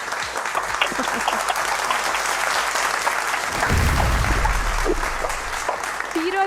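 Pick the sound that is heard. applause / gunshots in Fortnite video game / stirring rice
applause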